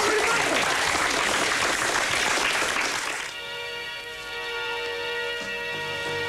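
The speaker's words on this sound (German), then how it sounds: "Applaus!" A crowd claps loudly for a few seconds, then the applause fades away as sustained music tones rise in its place.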